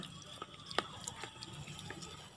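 Vinca seedlings are watered by hand, a quiet, steady patter and trickle of water with a few small drips, soft and close, with no talking.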